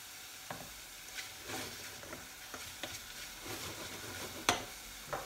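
Pasta being stirred in a hot frying pan with mushrooms, a soft scraping stir over a steady sizzle, with a few louder clatters of utensil against pan; close and alone.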